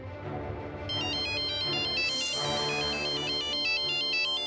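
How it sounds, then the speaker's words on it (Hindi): A phone ringtone plays a bright repeating electronic melody, loud and close, with a brief rising swoosh partway through. "राघव का फोन"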